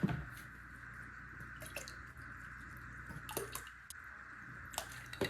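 Colored goat milk soap batter is poured off and set aside, giving a quiet, soft liquid trickle with faint drips, light squishy sounds and a few sharp knocks from the container.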